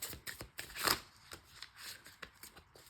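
A deck of tarot cards is shuffled by hand close up, with a run of quick riffling flutters and one louder burst of cards near the start.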